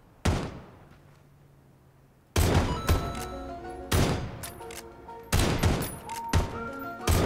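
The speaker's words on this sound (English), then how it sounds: "Shots on the opposite hill, I think." Gunfire in PUBG during a Winchester and pistols-only match, heard as several sharp, loud shots with ringing tails, spaced irregularly over a few seconds, no voices.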